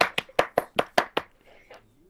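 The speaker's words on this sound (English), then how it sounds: "everybody, clap your hands" Seven quick, sharp hand claps in a steady rhythm, close and loud, followed by a short faint rustle.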